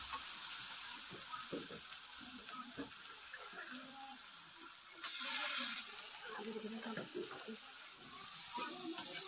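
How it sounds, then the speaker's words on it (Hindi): Ridge gourd peels frying in a pan with turmeric and chili, a steady close sizzle with stirring scrapes and a louder burst of hiss midway, running continuously. "हल्दी मिर्च मेरा भून चुका है और इसमें डाल देते हैं, इसे अच्छे से भून लेते हैं।"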